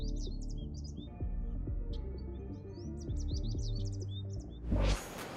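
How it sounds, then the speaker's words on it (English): Birds chirp and tweet repeatedly in high, quick calls over a low background rumble, ending with a brief loud rush of noise. "I can only hear the birds."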